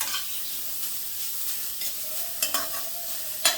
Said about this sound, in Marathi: थोडं एक ते दोन मिनटं मी लो टू मिडियम फ्लेमवर गाजर परतून घेते